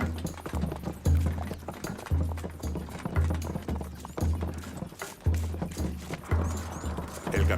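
Horses' hooves clip-clop in a steady, repeating rhythm at close range, fairly loud and even, with faint voices in the background.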